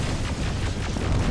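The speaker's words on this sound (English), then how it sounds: "Explosions?" Dense, continuous rumbling booms and blasts from combat in the video game Terminator Resistance, loud and sustained with no pauses, no voices over them.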